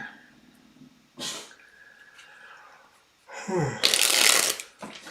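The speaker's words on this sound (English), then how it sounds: "as I'm shuffling" A deck of tarot cards is shuffled by hand in two bursts: a short riffle, a pause, then a longer, louder flurry of flicking cards close by.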